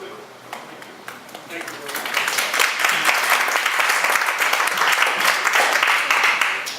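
Audience applause breaks out at a panel event, rising from a thinner patter into a dense, steady roar of many hands clapping that holds loud through to the end, with speech mixed faintly underneath.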